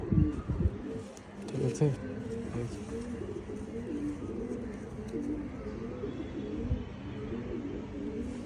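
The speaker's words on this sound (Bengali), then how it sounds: "এটা একটা মাদি কবুতর" A female silver pigeon coos in repeated low, rolling phrases close by, while someone talks over the calls at times.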